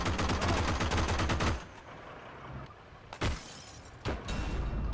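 Tank cannon fire in the game Heroes and Generals, aimed at an aircraft from a StuG III: a dense, loud burst of repeated shots in the opening second and a half, then two sharp single bangs later over a lower engine rumble.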